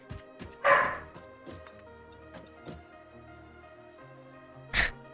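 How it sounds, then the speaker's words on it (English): A neighbor's dogs bark twice, a sharp yip early and another several seconds later, fairly distant against a quiet background hum. "And now my neighbor's dogs are barking."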